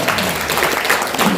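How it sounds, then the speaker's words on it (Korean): Audience applause at an anniversary ceremony for a Korean overseas-community newspaper, a dense, steady wash of clapping filling the short moment without a break. "잘했으면 박수 한번 주십시오"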